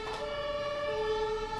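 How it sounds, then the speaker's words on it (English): Ambulance siren wailing steadily in the background, a continuous sustained tone with no talk over it. "Another ambulance."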